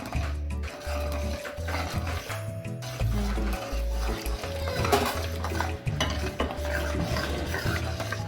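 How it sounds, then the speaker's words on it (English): Cornmeal and coconut milk are whisked in a pot for Jamaican porridge: busy, continuous scraping and clinking of the whisk against the metal, with a low steady hum underneath. "you can use your whisk and prevent the cornmeal from lumping"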